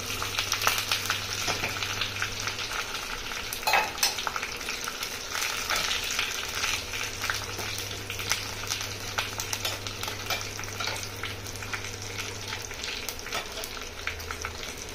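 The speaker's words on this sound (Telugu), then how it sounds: "ఆవాలు సరిపడి ఏగాలండి, మాడాలి కొద్దిగాని" Mustard seeds crackle and sizzle in hot oil for tempering, a dense continuous frying hiss with scattered sharp pops and occasional stirring, steady and close throughout.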